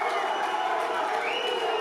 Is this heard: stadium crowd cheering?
yes